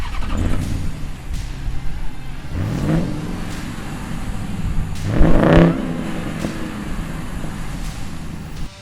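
A 2021 Ram 1500 TRX pickup with a supercharged 6.2-liter V8 Hemi revs in several loud, rising bursts, the strongest swell near the middle, over a deep idling rumble.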